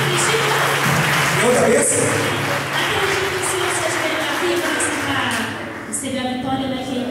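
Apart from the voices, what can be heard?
church congregation applauding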